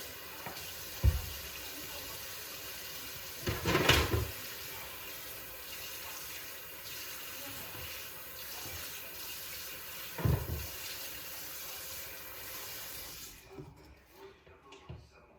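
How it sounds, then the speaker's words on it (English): Warm tap water runs steadily into a kitchen sink during handwashing with soap, a soft continuous stream broken by a few louder splashes and clunks. "wash my hands too"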